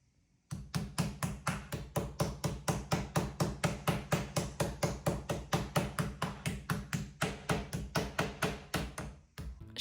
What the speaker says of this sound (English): I decided to flatten them a little bit with this mallet. But yeah, it made a really, really loud noise.